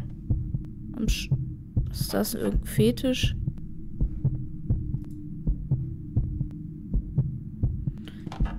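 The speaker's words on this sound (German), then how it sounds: "wenn man jetzt hier auch noch dieses komische Herzschlagen hat" A slow, steady heartbeat from the horror game Anna Extended Edition throbs low and regular throughout, with someone speaking German over it in the middle.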